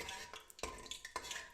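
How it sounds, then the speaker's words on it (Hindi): Black cardamom frying in oil and stirred with a spoon, giving a soft sizzle with a few quick metallic scrapes against the pot, close and faint. "इसको चम्मच के साथ हल्का सा फ्राई कर लेते हैं"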